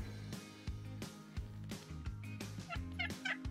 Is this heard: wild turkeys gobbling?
yes